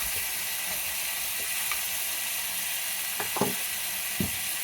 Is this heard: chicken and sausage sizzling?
yes